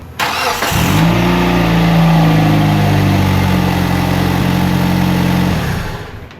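A Kia Soul 2.0L starts after a timing belt and water pump replacement, cranking briefly before catching, then settles into a loud, steady close-up idle for several seconds with no talking.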